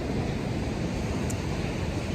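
Steady, loud wind in wet, windy Devon buffets the microphone with a broad roaring rush that barely changes throughout.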